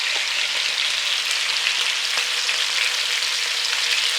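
Chicken sizzling in a pan, seasoned with garlic powder and smoked paprika, gives a steady, close, bright crackle of hot fat that runs unbroken throughout, with no one talking over it.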